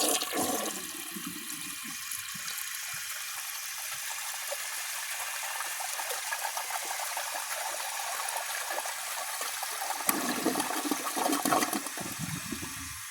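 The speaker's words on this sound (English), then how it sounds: "That's a pretty good flush." A 1981 Briggs Conserver toilet flushes with a strong, close rush of water. It settles into a steady swirling drain, then trickles and refills toward the end.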